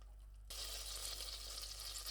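Butter hits a hot pan and starts sizzling, a sudden soft hiss that settles into a steady, gentle crackle over a low background hum.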